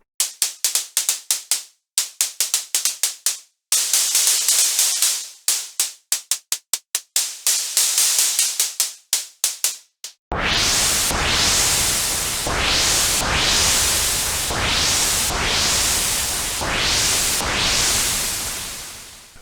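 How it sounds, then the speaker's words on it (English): Filtered white-noise hi-hat hits from the Mode F engine of the Syncourse synth plugin, a noise source shaped by a modulated low-pass filter: a run of short, crisp ticks and bursts in uneven rhythm, then longer sweeping noise swells, with no voices. "Finally, Mode F is a simple white noise source shaped by the low-pass filter, which can be modulated using the pitch envelope and the LFO."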